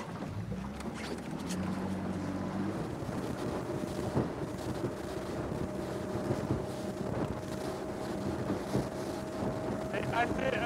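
A 250-horsepower motorboat engine running in La Rochelle harbour, a steady droning hum with a sustained low throb that holds for the whole stretch, mixed with wind buffeting and water noise, close and continuous.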